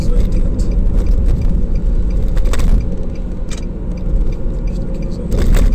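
A Nissan Sentra B16 with a CVT revs and accelerates toward 80, the engine droning loud and steady with cabin rattles and scraping over it.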